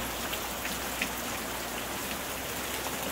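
Steady rain falls on a surface, a dense, even hiss of countless drops with a few slightly louder nearby patters, continuous and unbroken with no voices.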